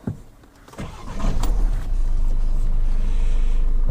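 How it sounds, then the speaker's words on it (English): A 2016 Peugeot 508 Active 1.6 BlueHDi diesel cranks and fires up without the clutch pressed, a few brief starter clicks and whirs giving way to a loud, steady low idle rumble heard close up inside the car. "unlike every other modern day diesel car, you don't actually have to apply the clutch to start up the 508"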